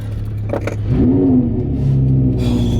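A Lamborghini engine idles with a low rumble, then revs up strongly and holds a loud, throaty drone close by.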